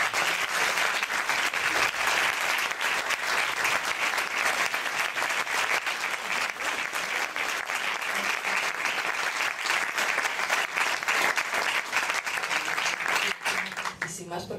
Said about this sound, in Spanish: queremos un aplauso por todo el mundo